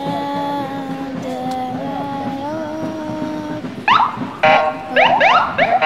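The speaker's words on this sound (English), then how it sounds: "they're honking at you." Car horns at a parade honk in several sharp, repeated blasts from close by, following a tonal, warbling whine, with street crowd noise around them.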